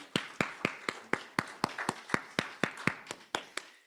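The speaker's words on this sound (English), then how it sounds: "Let's give them all another round of applause." Applause from a church congregation at a Sunday service, a sparse ragged clapping of a few hands with distinct sharp claps at a steady pace, moderately close and without talk.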